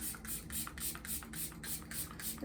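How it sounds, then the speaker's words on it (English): A makeup setting spray is pumped in a series of quick, rhythmic hissing bursts, about eight short sprays close to the listener, fairly quiet with no talk. "Setting spray."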